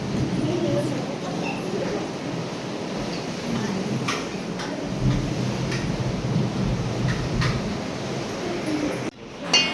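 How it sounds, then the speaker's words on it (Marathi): A rainstorm with thunder in rural Maharashtra during the monsoon: a continuous wash of falling rain with low rumbling swells and a few sharp cracks, while someone speaks over it. "आता पण बघा हिचा कडकड आहे त्याला, आणि पाऊस थोडा चालू पण आहे."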